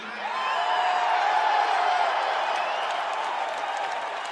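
Crowd applause and cheering at Rush's Rock and Roll Hall of Fame induction ceremony, a steady, dense wash of clapping and whoops that holds at an even level throughout.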